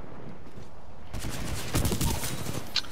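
Rapid gunfire from the video game Titanfall 2 bursts out after a quiet opening, a dense fusillade of shots with a few louder cracks near the end.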